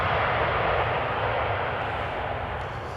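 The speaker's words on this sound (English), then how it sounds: "You're watching arrivals at Amsterdam Schiphol Airport" A jet airliner arriving on runway 18R, the Polderbaan, at Amsterdam Schiphol, a loud broadband engine roar that holds steady and slowly eases, heard alone.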